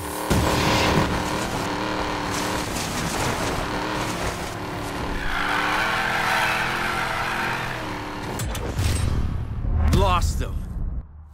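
A Plymouth Barracuda in Need for Speed Payback drives with a loud, steady engine roar and shifting revs, rising into a sharp acceleration near the end, under radio chatter from police voices.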